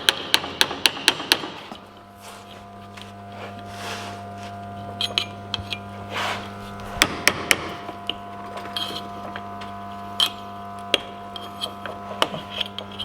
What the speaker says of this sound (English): So we don't really care too much about these metal shields, so I'll just try and knock them off.